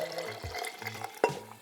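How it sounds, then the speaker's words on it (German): Water is poured over horse chestnuts in a glass, a faint, brief splash and trickle with a small bright clink near the end, heard close and quiet. "Dann macht ihr Wasser drüber"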